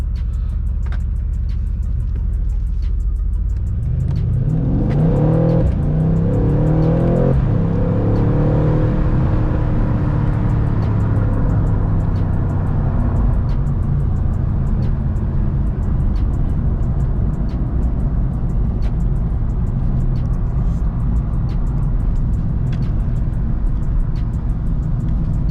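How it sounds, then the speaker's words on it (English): A 2019 Mercedes C63-S AMG in Sport Plus mode pulls away, its engine climbing in rising revs through a couple of gear changes before settling into a steady loud drone, heard from inside the car. "let's put this thing in drive and then put it in Sport Plus, and then we are gonna take off"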